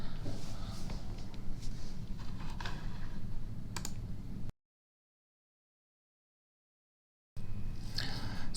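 A computer keyboard is typed on at close range in steady light clicks while a make command is entered, with background hiss and a short stretch of total silence partway through.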